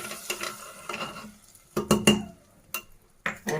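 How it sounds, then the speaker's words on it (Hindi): Hot oil tempering is poured over cooked lentils, sizzling and spattering in short bursts with metal clinks and stirring, loud and close. "अब दाल के ऊपर तड़का हम डालेंगे"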